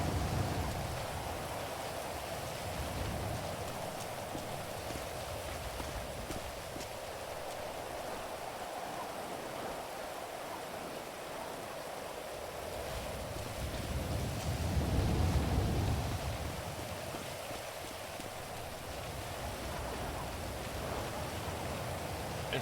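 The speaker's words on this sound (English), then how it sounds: "It's raining. It's cold out here." Rain falling in the video game GTA 5, a steady wash of close rainfall with a low rumble swelling midway, continuous and without talk.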